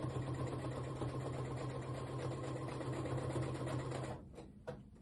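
A sewing machine stitching a poncho seam with a quarter-inch allowance, a loud steady motor whir with rapid needle chatter for about four seconds, then stopping abruptly with a faint click.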